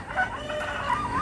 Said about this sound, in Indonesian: saya menjemur dua ayam yang udah berusia sekitar 9 sampai ya 9-10 bulan lah teman-teman